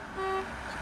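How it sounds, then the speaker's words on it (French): A single short car horn toot, moderately loud against a low road and traffic background in rural China. "elle entend des tut-tut"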